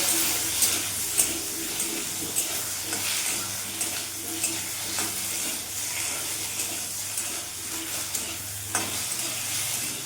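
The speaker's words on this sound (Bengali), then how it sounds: "কচুটা একটু ভাজা ভাজা করে দেব" Pieces of taro coated with salt and a little turmeric fry in a pan while being stirred, a soft steady sizzle with light scraping strokes recurring at intervals, fairly quiet and close.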